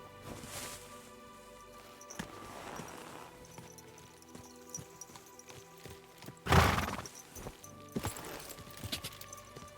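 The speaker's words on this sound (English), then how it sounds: "One day I'll get good at riding the horse." A horse ridden in the video game Kingdom Come: Deliverance 2, with clip-clopping hooves and a loud neigh, set over soft ambient game music and rustling, heard alone without speech.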